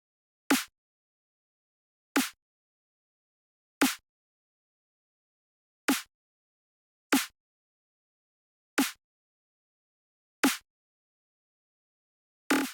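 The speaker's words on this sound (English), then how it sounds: "was the snare from a Cymatics EDM drum kit" Snare hits from a Cymatics EDM drum kit programmed in FL Studio, eight sharp, crisp strikes spaced evenly with silence between each, dry and upfront.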